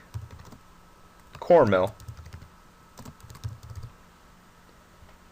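Rapid computer keyboard typing while a comment is entered in CAM milling software, a few quick bursts of keystrokes with a short spoken phrase in between, close and moderately quiet.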